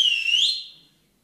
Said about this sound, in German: Einer Dame pfeift der durch die Finger.